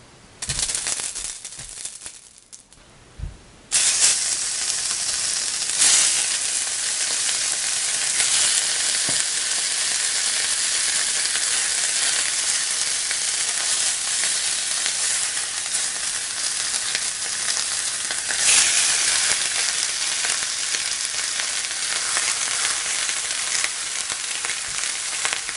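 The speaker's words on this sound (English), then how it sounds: "I'm gonna fry the bones." Steak bones dropped into a smoking hot oiled pan, a loud, steady, broad hiss of frying that holds for over twenty seconds after a brief quieter start with a few clinks.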